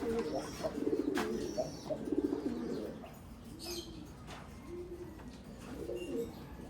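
Pet lovebirds gather by their cage to drink, giving rhythmic cooing calls and a few sharp chirps close by, with a steady low background hum.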